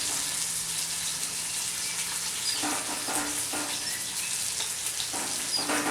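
Meat searing in a Dutch oven at an outdoor cooking gathering, with a steady close sizzle running throughout and brief stirring scrapes and bursts near the end.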